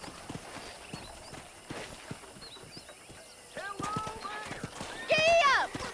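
Horse hooves clip-clop in the Red Dead Redemption video game, a steady walking rhythm of fairly faint hoofbeats under spoken dialogue, with a brief whinny-like voice near the end.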